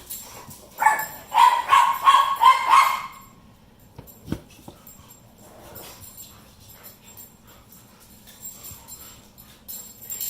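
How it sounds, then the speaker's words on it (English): Sugar, a pet dog, barks in a quick burst of several sharp, fairly close yaps early on, then goes quiet apart from a single knock, with low background hum and faint room noise. "So Sugar's barking."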